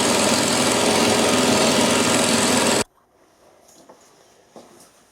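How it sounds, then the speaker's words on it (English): A small milling machine cutting steel roars loudly and steadily for about three seconds, then cuts off abruptly into near silence with a few faint knocks. "That's 16 3/4 inch I've actually managed to cut, which is not bad for a mill machine of this size."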